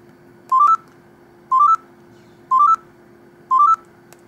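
Self-timer beeping from an LG GS155 mobile phone camera: four short, clear electronic rising beep chirps spaced evenly about one second apart, close and alone over faint background hum.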